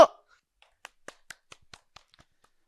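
A handful of sparse claps sound at a seminar on exam strategy for the physical-education teacher exam. About eight separate, fairly quiet claps follow an opening thump in a quiet room.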